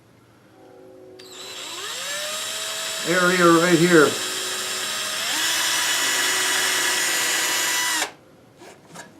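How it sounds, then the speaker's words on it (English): A power drill whirs up, drilling holes in a woodworking tenoner jig, runs for several seconds with a rising pitch under a brief spoken phrase, then winds down to a stop. "I'm gonna drill a couple holes here in this"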